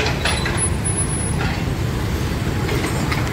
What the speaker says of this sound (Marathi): आज ट्रॅफिक भरपूर रोडला